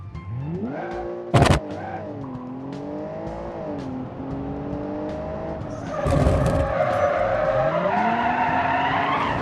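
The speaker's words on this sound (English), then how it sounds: "Hear the turbo hiss there." A game car engine with a turbo revs and shifts through gears, with sharp turbo hissing bursts between throttle changes and a louder, gritty stretch near the end.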